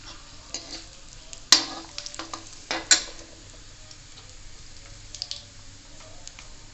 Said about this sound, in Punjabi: ਲੋ ਜੀ ਤੇਲ ਆਪਣਾ ਗਰਮ ਹੋ ਗਿਆ ਸਭ ਤੋਂ ਪਹਿਲਾਂ ਪਾਵਾਂਗੇ ਜੀ ਆਪਾਂ ਇਹਦੇ ਵਿੱਚ ਜੀਰਾ ਇੱਕ ਪਾਵਾਂਗੇ ਆਪਾਂ ਇਹਦੇ ਵਿੱਚ ਤੇਜ ਪੱਤਾ